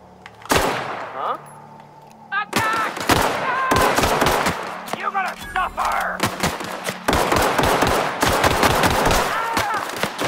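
Loud gunfire from a recoiling gun in The Outer Worlds, repeated close bursts of shots separated by short pauses, set against game ambience and effects.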